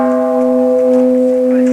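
The World Peace Bell, sounded at a ceremony by the mayor, ambassadors and citizens, rings out as a loud, steady, sustained metallic hum with no voices.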